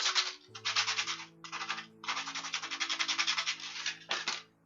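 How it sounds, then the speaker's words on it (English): Sandpaper rubbing over the white area of a dog portrait drawing, a series of close, raspy back-and-forth strokes in short bursts with brief pauses, over faint background music. "I want to get the whitest white I can there, so I'm just going to sand my white"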